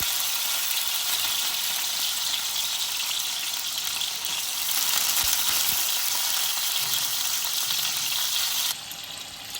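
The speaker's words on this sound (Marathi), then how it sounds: "तेल गरम झालं त्यात मिरच्या टाकते मिरच्या थोड्या फ्राय झाल्या" Green chillies and potatoes frying in hot oil for sabudana khichdi give a loud, steady, close sizzle that runs unbroken and dips slightly near the end.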